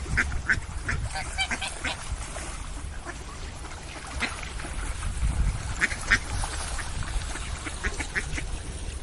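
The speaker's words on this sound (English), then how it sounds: "Birds and ducks." Several ducks quack in scattered bursts against a rushing wind noise, some calls nearer, others farther off.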